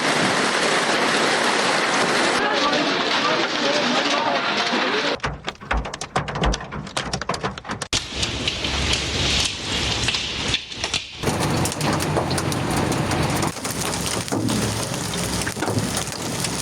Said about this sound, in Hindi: इस्लामाबाद में शदीद यालाबारी, गाड़ियों के लिए तबाही